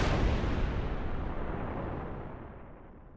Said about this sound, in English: Now that's a fucking explosion.